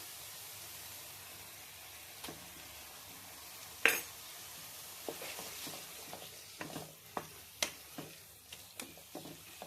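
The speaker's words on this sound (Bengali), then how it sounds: "এবার দিয়ে দেবো এতে পেঁয়াজ বাটা।" Onion paste frying in a pan while it is stirred for jackfruit curry, with a soft background sizzle and a series of scraping and clinking spatula strokes growing more frequent toward the end.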